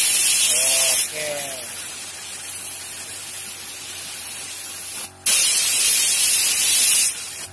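Modified spray gun opened to its widest fan pattern, giving loud steady bursts of hissing spray that stop briefly and start again, with a short voice early on.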